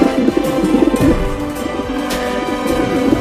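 A cartoon pigeon coos in repeated soft, throaty burbles, close and steady throughout with no talking.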